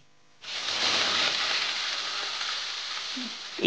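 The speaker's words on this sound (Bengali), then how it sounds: "এরপর তেল গরম করে সব মাছগুলোকে ভেজে নিলাম।" Tangra fish, rubbed with salt and turmeric, going into hot oil: a loud, steady hiss bursts in after a short quiet start and sizzles on evenly to the end, with a faint clatter near the close.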